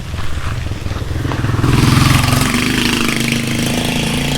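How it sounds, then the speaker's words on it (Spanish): Motorcycles pass close by, engines rising to a loud, rough mid-range growl that swells and holds, then stays as a steady buzzing drone as the bikes move on, with no talk over it. "No se supone que pasen las motos por aquí"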